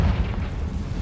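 A Confringo spell in Hogwarts Legacy goes off as a deep, booming blast that rumbles through the whole second before a sharp burst at the end, loud and alone.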